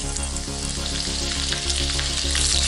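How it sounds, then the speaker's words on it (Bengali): Garlic dropped into hot oil for street-style veg chow mein gives a loud, dense sizzle and crackle throughout, with a faint regular background hum underneath. "সবথেকে প্রথমে আমি তেলের মধ্যে দেব রসুন,"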